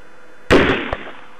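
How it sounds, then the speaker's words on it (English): A single sharp gunshot from recorded footage of the Stoneman shooting cracks out loudly, followed a moment later by a second fainter pop. Both sit over a steady background hiss. "Now let's listen to the Stoneman shooting."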